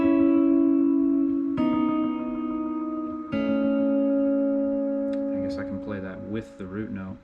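Overdubbed melody harmonized in major thirds, two sustained tonal lines moving together in steady held notes, then breaking into shorter shifting phrases near the end.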